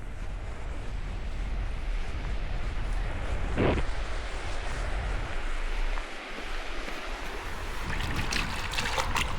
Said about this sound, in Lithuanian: Bet rankas apsiploviau.